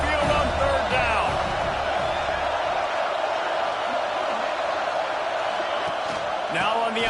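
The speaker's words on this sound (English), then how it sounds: "The Tide crowd rolling noise down onto Saban Field on third down" A big stadium crowd of Alabama Crimson Tide football fans roars on third down against the Vanderbilt Commodores, a continuous dense wall of noise with a commentator talking over it.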